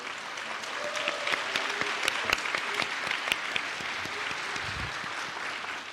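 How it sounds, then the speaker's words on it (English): An audience at a Siriraj and MIT medical hackathon claps steadily for the participants, with a dense, even patter of hands and a few sharp individual claps standing out. "Let's give a big round of applause to all of our amazing participants today."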